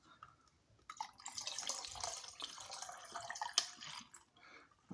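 Liquid drips and trickles from a leaking plastic jug during home distilling of a brown sugar and pearl barley ferment, a steady close patter of small splashes with a few sharper drops, no talk.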